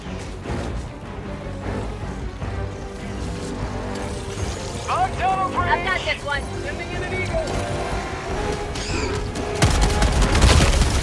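Shotgun blasts in Helldivers 2, an incendiary shotgun fired one-handed against Terminids, rattle through a dense battle din of gunfire and explosions, with a voice talking over the fighting and a louder burst near the end.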